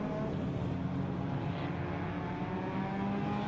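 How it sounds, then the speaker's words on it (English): Racing cars on a motorsport circuit at a regional extreme festival meeting, a steady broadband engine drone from cars out on track, fairly distant and continuous without clear pass-bys. "A couple of cars on the left-hand side there,"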